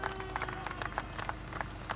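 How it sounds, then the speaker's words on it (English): Scattered clapping from an audience applauding a governor, uneven claps crowding together and carrying through a short, lively burst. "we first of all clap for our governor for being a sensitive man"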